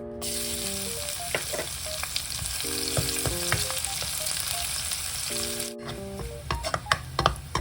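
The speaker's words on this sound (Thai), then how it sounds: "แล้วก็ใส่ กระเทียมที่เราตำลงไปเจียวนะครับ" Pounded garlic fries in hot oil for Thai shrimp rice soup, a dense, even hiss of bubbling oil close by under a soft tonal jingle, with clicks of stirring growing more frequent near the end.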